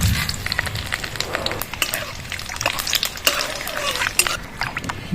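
Spices, dried red chillies and bay leaves crackle and sizzle in hot mustard oil in a wok, with irregular pops and a spatula scraping the pan, close up and without speech.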